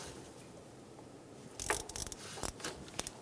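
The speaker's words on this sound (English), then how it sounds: "Snug down the sensor." A hand ratchet clicks in short quick strokes, close and crisp, tightening the power steering pressure switch on a 2005-2010 Toyota Tacoma after a quiet stretch.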